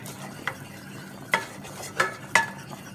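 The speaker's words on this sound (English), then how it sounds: "you stir it really fast to make a paste" Butter and flour are whisked into a paste in a pan, giving a soft steady scraping and sizzle with a few sharp clinks of the utensil against the metal.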